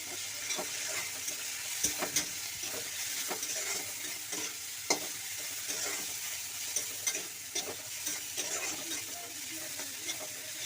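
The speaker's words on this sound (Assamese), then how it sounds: "এইখিনি এতিয়া মই ধুনীয়াকৈ লৰাই দিওঁ" Steady sizzling in a pan over low heat with repeated scraping and tapping of a spatula as lentils are stirred, close and continuous.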